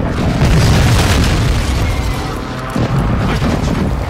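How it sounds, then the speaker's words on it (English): Precision airstrike explosions in Call of Duty Warzone 2, loud continuous booming blasts and deep rumbling impacts overlapping without pause, close and dominant. "Hostile precision airstrike."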